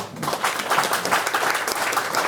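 A crowd claps for Kodandaram at a Telangana movement activists' meeting, dense steady applause from many hands lasting a couple of seconds.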